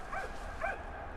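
Dog in a truck giving two short yips or barks, faint and somewhat distant, with a low background rumble.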